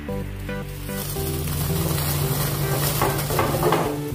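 A pan is covered with a lid, a few metallic clinks and scrapes rising over a steady sizzle as a breadless sandwich with oregano cooks, fairly close and without talk.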